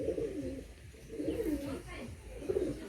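Pigeons in a loft at Chandipur, Medinipur, kept among Madrasi and Punjabi birds, give three low, rolling coos at a steady pace, near and clear over a faint murmur of background noise.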